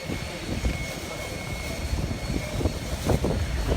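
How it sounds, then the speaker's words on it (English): A jet carrying the Georgia football team touches down for its Sugar Bowl arrival, giving a steady, fairly distant engine roar and rumble that swells slightly near the end, with no speech over it. "Here comes Georgia's plane actually touching down."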